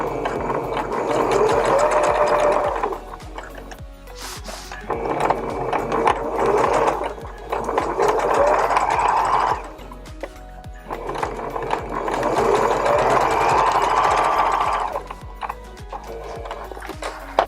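Sewing machine closing the seam of a small stuffed doll pillow, running in several loud close bursts of steady stitching separated by brief pauses.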